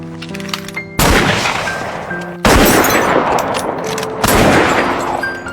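Gunfire sound effect: a quick string of loud, sharp shots and bursts, with three heavy blasts roughly every one and a half seconds over a dense crackle of rapid fire.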